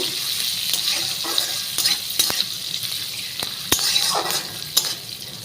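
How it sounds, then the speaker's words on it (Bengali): Chopped ginger and green chilli stir-frying in hot oil in a pan, a steady sizzle with occasional clinks and scrapes of a spoon against the metal, heard alone without talk. "একটু নাড়াচাড়া করে এটাকে একটু ভাজা ভাজা করে নেব।"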